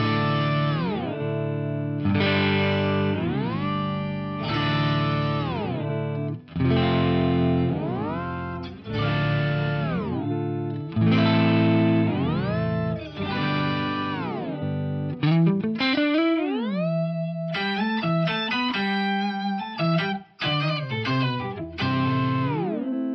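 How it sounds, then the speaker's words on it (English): A guitar runs through the Eventide H90 Polyflex algorithm, pitch-shifted an octave up and an octave down at once in stereo, with sustained chords bending and gliding in pitch and later quicker staccato phrases, loud and clear with no speech. "This one's set up, like I said, to go up an octave and down an octave in stereo simultaneously."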